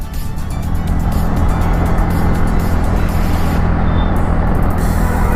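A TVS Ntorq 125 Race XP scooter is ridden through turns, its engine and rushing wind forming a loud, continuous roar heard close from the rider's position, steady throughout with no speech.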